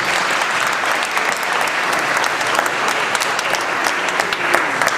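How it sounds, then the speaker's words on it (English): Audience applause fills a sheriff candidates forum held in a church hall, dense steady clapping from a large crowd sustained throughout without a break. "So please give yourselves a huge, huge round of applause."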